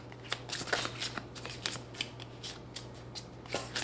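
Tarot cards being shuffled in repeated crisp riffling bursts, close up, over a steady low electrical hum, with no voices.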